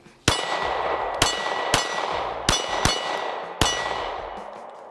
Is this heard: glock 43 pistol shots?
yes